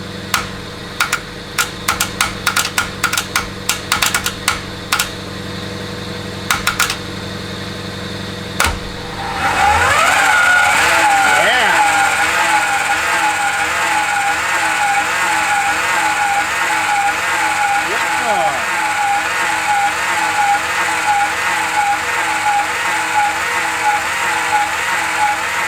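Car engine cranking with rapid starter clicks, then catching and running loudly after final assembly, idling roughly and slightly off on timing with wavering revs.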